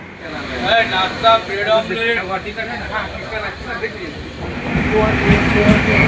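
Beside a talking passenger, the Tamil Nadu Express and a local train run side by side near Santragachi station, their rumble and rattle a continuous background under the speech.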